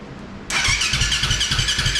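A KTM engine fitted to a Honda TRX450R ATV fires up on its first start after a short quiet pause, then settles into a loud, close, lumpy idle with a pulsing rhythm.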